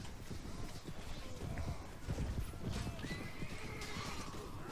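Horse hooves clip-clop steadily in Warband's Prophesy of Pendor mod during a battle, with a horse whinnying over busy, continuous background noise at moderate volume.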